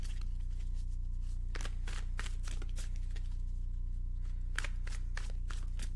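Tarot cards being shuffled in several quick riffling bursts, with short pauses between them, over a steady low hum; no talking.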